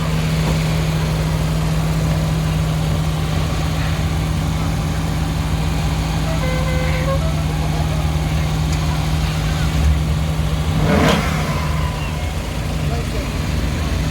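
A Mini Cooper and a Jaguar XK8 at the Wheel Nuts car show in Stroud: a steady engine idle hums throughout with a brief louder burst near the end, under someone talking.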